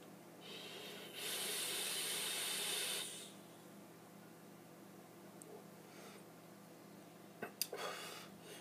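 A vaper draws hard on a Hyprtonic Gravity rebuildable dripping atomizer with all airflow holes fully open, making a steady, airy hiss that lasts about two seconds. Faint puffs and clicks follow later.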